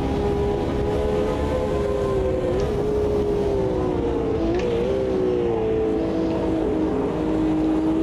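Retro Grand Prix race car engine in Automobilista 2, a loud continuous drone whose pitch rises and dips with throttle, broken by gear changes on the clutch around the middle, steady and close throughout with no talking.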